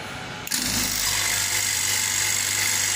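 Vacuum pump starting up to evacuate an R-22 air conditioner, switching on abruptly and settling into a steady, close mechanical hum with a bright whirring hiss.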